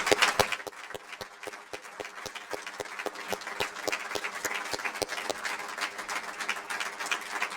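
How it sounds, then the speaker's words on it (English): Crowd applause at the Defense Information School Hall of Fame ceremony for the Class of 2021, steady dense clapping from an audience in a hall, sustained throughout with no talking. "Let's have another round of applause for the Defense Information School Hall of Fame Class of 2021."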